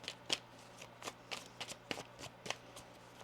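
Tarot cards being shuffled quietly, a series of soft riffling flicks and snaps coming in irregular quick bursts, close by and faint.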